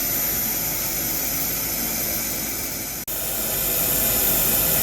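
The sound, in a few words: fume extraction system running during pipe welding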